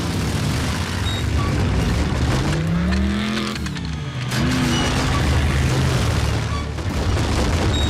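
Cartoon robot vehicles from Transformers: Robots in Disguise rev their engines with rising whines and roar off together, a dense loud rumble of motors and whooshing transformations lasting several seconds.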